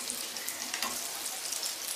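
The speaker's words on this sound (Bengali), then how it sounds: "এখন আমি এগুলোকে উল্টে দিয়ে অপর সাইডটাকেও একটু ফ্রাই করে নিচ্ছি" Noodle pakoras fry in hot oil, giving a steady, close, even sizzle and crackle that lasts throughout with no speech.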